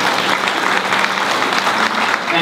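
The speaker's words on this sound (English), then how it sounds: "I'd like you to give a round of applause to Kevin" Audience applause at a church 125th anniversary celebration, a dense burst of clapping from a room full of people, loud and steady throughout.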